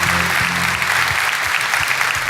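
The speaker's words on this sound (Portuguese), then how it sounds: "E aplauda Cristo bem forte" Church congregation applauding loudly during a Portuguese-language worship service, a dense, steady wash of clapping with faint talk underneath throughout.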